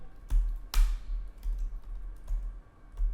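Sparse keystrokes on a computer keyboard: a handful of separate, close clicks and taps with gaps between them, one sharper louder stroke near the start, over a low steady hum.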